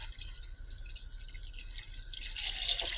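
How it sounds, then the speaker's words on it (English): Water pours into a pot of Korean seaweed soup, a steady liquid trickle and splash that swells louder near the end, heard alone without talk. "So I do need to add more water."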